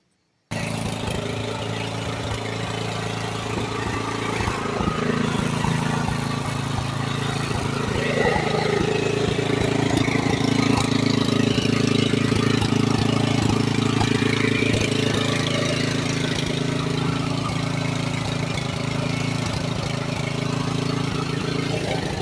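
A gasoline engine on an unusual farm machine runs steadily and loudly at close range for the entire stretch, a continuous rough mid-pitched drone that swells slightly around the middle.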